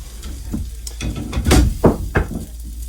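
Food frying in batches in a copper-style pan, with bursts of sizzling and clattering stirring strokes up close, loud and unbroken by talk.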